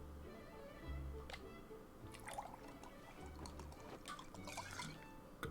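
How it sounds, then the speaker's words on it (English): A drink is poured into a glass in the card game Card Shark, a soft steady trickle of liquid lasting several seconds, faint under low background music. "Would you just kind of refill my glass before you go?"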